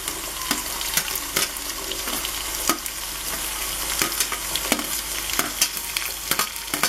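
Onion, carrot, potato and beans sizzle in a pan for Karnataka bisi bele bath, a close, continuous frying hiss broken by regular sharp clicks of a spoon stirring.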